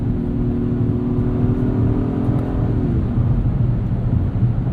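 A 2022 Acura MDX SUV with a V6 engine accelerates, a loud steady engine drone and road rumble from inside the cabin, with its pitch climbing and then easing off as the revs settle.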